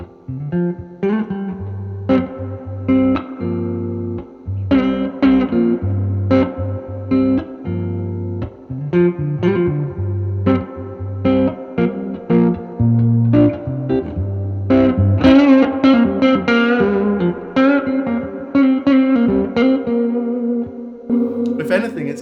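A Les Paul electric guitar played on the neck pickup through a Vibrolux amp with pedals rings out in picked notes and chords, lightly distorted with echo and reverb tails, played alone without talk.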